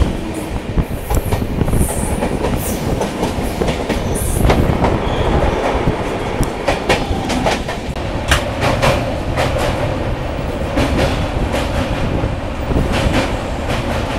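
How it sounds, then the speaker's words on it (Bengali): The Akal Takht Express passenger train runs on the rails near Dakshineswar, a loud continuous rumble with rhythmic clickety-clack of wheels over joints and occasional squeals, heard close from on board. "আমাদের ট্রেন পার করছে দক্ষিণেশ্বর"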